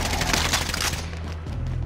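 Rapid gunfire from a video game shooter match, a dense burst of overlapping shots in the first second that thins into lower rumbling, heard loud and close without talk.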